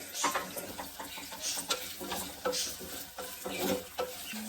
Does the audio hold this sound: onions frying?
yes